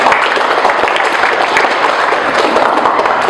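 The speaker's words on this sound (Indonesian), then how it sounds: "Boleh kembali berikan tepuk tangan untuk kita semua?" A roomful of people applauding at a university teaching session, a steady wash of clapping that stays loud and even for the whole stretch.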